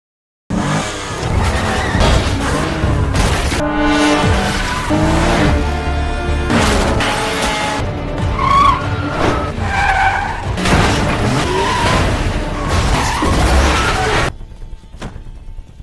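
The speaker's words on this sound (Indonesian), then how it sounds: "aksi kejar-kejaran tabrak-tabrakan mobil pun terjadi begitu sengit" Loud, busy car chase in an action film: engines revving, tires screeching in long skids, and sharp crunching impacts as cars ram each other, with dramatic music and shouts mixed in throughout.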